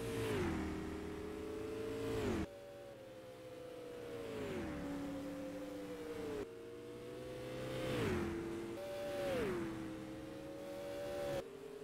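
Race cars circle the Music City Speedway oval during heat races, engines revving and howling as they pass near, then fading and dropping in pitch. The cycle repeats several times, loud and continuous.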